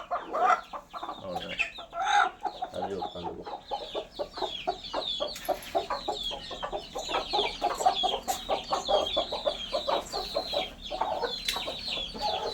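A hen brooding a clutch of eggs clucks and murmurs continuously up close, a steady stream of soft, grumbling calls with a few sharper squawks, no talking.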